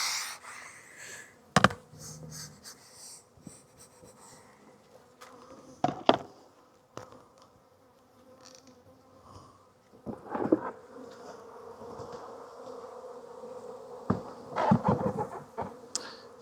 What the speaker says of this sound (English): So we've got a lot of bees still eating the fondant here.